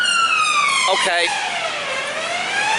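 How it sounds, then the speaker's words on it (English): An ambulance siren wails past on a London street, loud and close with a falling pitch sweep as it passes, and someone briefly speaks over it. "we got an ambulance going past"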